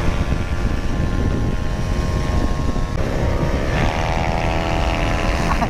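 Motorcycle ridden fast on a road, its engine a steady loud whine with rising tones as revs climb, wind buffeting heavily over it, no talk.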